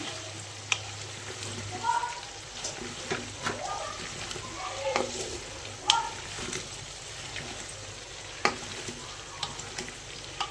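Nigella seeds being stirred into a chunky Indian gooseberry (amla) pickle, with soft scraping and occasional sharp spoon clicks against the bowl under a low background hum, with what may be a faint voice in the background.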